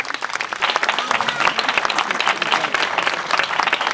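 Audience applause for third-place winners in a spoken-word-and-music category at a Polish contest, a steady dense wash of clapping sustained throughout at moderate loudness.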